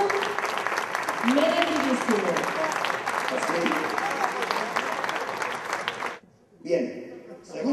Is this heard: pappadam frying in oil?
no